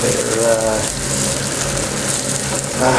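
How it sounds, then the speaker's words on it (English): Onions or similar pieces frying in a pan on a home kitchen stove, a steady close hiss and crackle running throughout with a voice talking over it and an extractor fan humming. "Just need to fry these off"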